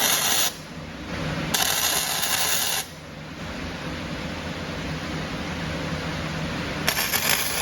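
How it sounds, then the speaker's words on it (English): Welding a crank trigger onto a crankshaft in a workshop: harsh, hissing bursts of arc noise come in three separate runs, two long and close, with a steady background hum between them. "I'm gonna put a little more welds on it."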